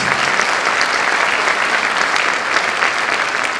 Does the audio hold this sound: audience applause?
yes